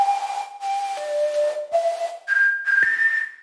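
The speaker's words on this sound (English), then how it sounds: "You can create some whistle sounds" Synthesized whistle made by pushing filter resonance in the Serum software synth, a pure, piercing tone stepping through several pitches in short sustained notes, clean and alone.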